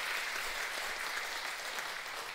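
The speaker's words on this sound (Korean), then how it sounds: "우리 박수 한번 보내줄까요?" A church congregation applauding children from the Sunday school, a dense burst of many hands clapping steadily and evenly for a couple of seconds.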